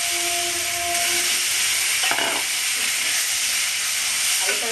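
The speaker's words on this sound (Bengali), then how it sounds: "সর্ষের তেল দেব, দিয়ে আমি আলুটা আগে ভেজে নেব ভালো করে" Potatoes frying with turmeric in mustard oil in a kadai give a steady, close hiss of sizzling oil that runs throughout, with a few brief clatters and scrapes mid-way.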